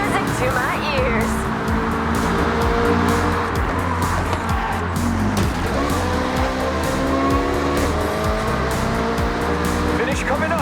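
Racing car engines roar and tires squeal in Forza Horizon 6, a loud, continuous drone with rising and falling revs that runs through a tunnel section, with music and a voice underneath.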